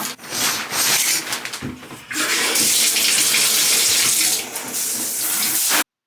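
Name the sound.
running tap water, washing face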